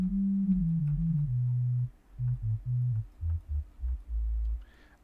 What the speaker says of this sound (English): Sine waves